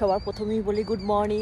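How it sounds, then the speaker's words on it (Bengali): Morning birds call softly in the background, a cooing note or two faintly audible beneath someone speaking a greeting close to the microphone. "ওই যে পাখি ডাকছে, দারুণ লাগছে"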